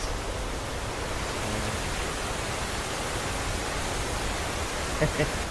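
The tiered Darbat step waterfalls near Salalah, Oman, all running during the monsoon season, give a steady, dense roar of rushing water. The broad, unbroken hiss fills the whole scene.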